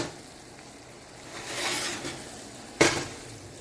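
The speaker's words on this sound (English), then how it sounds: "A nice rolling boil. Stir it a little bit." A pot of vinegar brine at a rolling boil gets stirred, giving a soft bubbling hiss that swells briefly and then a sharp clank of a spoon against the pot.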